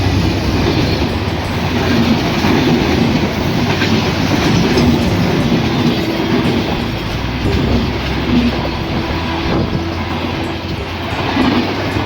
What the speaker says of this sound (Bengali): সিলাহাটি থেকে ছেড়ে আসা খুলনাগামী সাতশো আঠাশ down Rupsa express Azimnagar rail স্টেশনের এক নম্বর লাইন দিয়ে প্রবেশ করছে